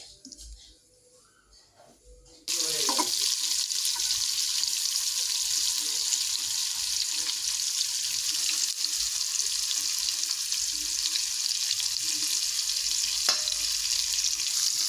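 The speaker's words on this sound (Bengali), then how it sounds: "পেঁয়াজটা ভালো করে ভেজে নিচ্ছি" After a quiet opening, a loud, steady sizzling hiss starts abruptly and continues as onions fry in hot oil in a kadai, with faint clinks.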